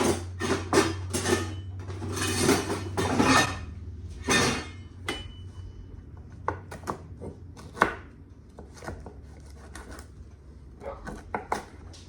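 Knife chops tough chicory root on a cutting board in a run of sharp, close, irregular knocks, some in quick clusters, then sparser single cuts with quiet pauses between.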